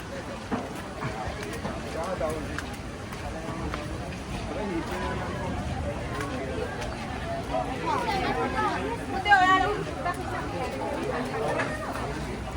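A busy weekend crowd at a water park, a dense babble of many voices and general hubbub, with a speaker talking over it.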